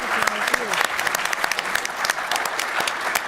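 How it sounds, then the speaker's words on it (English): A conference audience gives a panel a round of applause, brisk and fairly close, with individual claps standing out in the dense clapping for a few seconds. "So can we get another round of applause for a wonderful panel?"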